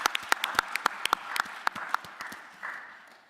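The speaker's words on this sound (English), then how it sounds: "Let's give them a round of applause for the work they're doing." A small group at a county board of commissioners meeting gives a round of applause, with individual claps clearly separated in a brisk, uneven patter that thins out and tapers off toward the end.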